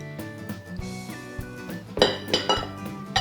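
Eggs and grated cheddar are mixed in a bowl, making clinking and tapping utensil strikes against the dish, sharper and louder in a quick series toward the end.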